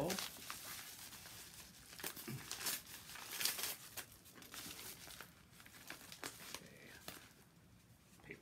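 Paper envelope holding Canadian Maple Leaf coins being opened, with close crinkling and tearing rustles in irregular bursts, quiet and nearby.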